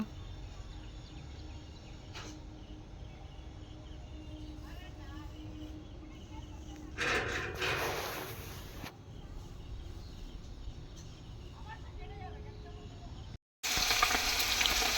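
Hilsa fish frying in a pan at home, giving a steady low sizzle through the whole stretch with a louder burst partway through and a brief pause near the end; people talk over it.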